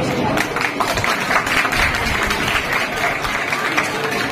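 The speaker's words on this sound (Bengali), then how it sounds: "একটা জোরে হাততালি ওর জন্য" Applause for a student at a zero-waste school event at Katyayani girls' high school in Naihati, a steady wash of clapping throughout with voices mixed in.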